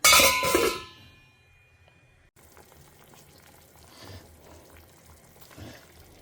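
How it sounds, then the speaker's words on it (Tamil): Ground paste dropped into a simmering pot of pumpkin moong dal sambar with tamarind water gives a loud, brief sizzling splash, then settles into a faint, low bubbling simmer. "அரைச்சி விட்ட விழுதியும் ஆட் பண்ணிட்டேன்"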